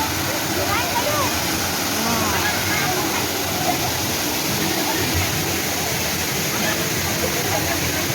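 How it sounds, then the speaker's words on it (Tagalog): Steady, loud rush of a hidden waterfall near Lohas Park, Hong Kong, broadband and unbroken throughout, with faint voices of a crowd occasionally audible beneath the roar. "Malakas na tubig."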